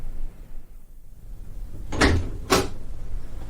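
A door is worked in an audio drama: two close thuds and clunks of the latch and frame, about half a second apart, over a quiet room with no talk.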